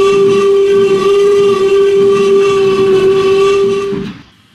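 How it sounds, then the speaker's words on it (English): A steady, sustained steam train whistle with a strong tonal pitch, loud and close, holding for about four seconds before cutting off abruptly. "There was a feeble whistle."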